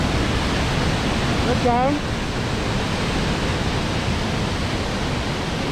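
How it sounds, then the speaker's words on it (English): Johnston Canyon's big waterfall roars as a steady, loud broadband rush throughout, with a brief voice speaking over it partway through. "That's the biggest waterfall here."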